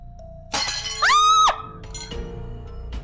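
A cup of hot tea drops and breaks in a household scene, a sudden bright glassy shatter with ringing clinks, then scattered quieter rattles of pieces settling.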